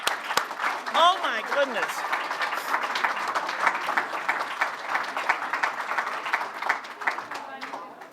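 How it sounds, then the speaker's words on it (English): Sustained applause from an audience honoring essay authors at a homework center reception, a full, steady wash of clapping lasting several seconds, with a voice speaking briefly over it near the start. "Can they all get a round of applause?"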